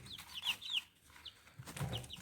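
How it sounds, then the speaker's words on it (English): Backyard chickens cluck and chirp softly nearby in short, scattered calls, with a few higher peeps and a lower cluck near the end, quiet and unaccompanied by talk. "My little chickens."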